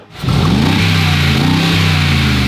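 A 2020 Mercedes-AMG G63 with a 4-litre V8 and modified straight-pipe exhaust revs hard, the engine jumping from idle to a loud, sustained, rumbling roar heard close up.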